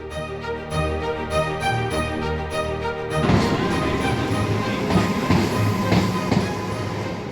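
A train passes through a misty, cold railway station, a dense, loud rumble with rattling and clanking that swells sharply partway through and continues steadily to the end.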